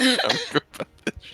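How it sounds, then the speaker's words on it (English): Several short, sharp coughs from a person at a casual tabletop D&D game, following a stretch of speech, each burst close and distinct with brief pauses between. "I just coughed."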